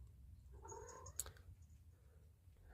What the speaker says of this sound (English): I've just got my cat commenting in the background.